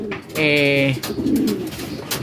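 Pigeons cooing around their coop, one close, loud, rolling coo with a brief softer coo after it, alone without talk.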